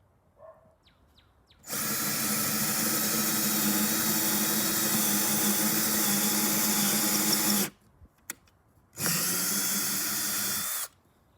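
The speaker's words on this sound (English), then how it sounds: "I want to have my safety goggles on, and I'm going to drill the hole." A power drill whines loudly and steadily for about six seconds, boring a hole in wood for a mason bee house, stops briefly with a few clicks, then bores again for a couple more seconds.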